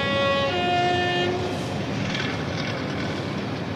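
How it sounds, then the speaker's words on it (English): Diesel multiple unit passenger train from Cambridge crossing the new Trowse Swing Bridge, steady loud rumble with a fading horn-like tone at the start, continuing throughout. "The first train to cross with passengers is a DMU from Cambridge."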